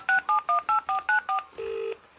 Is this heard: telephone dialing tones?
yes